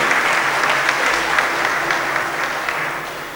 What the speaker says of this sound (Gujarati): એમને જોરદાર તાળીથી વધાવો